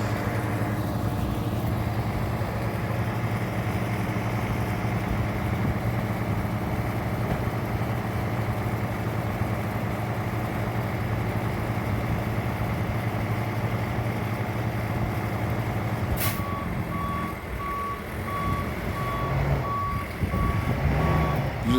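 A truck engine idles steadily and close for a long stretch, and a high reversing alarm starts beeping near the end in an even repeating pattern.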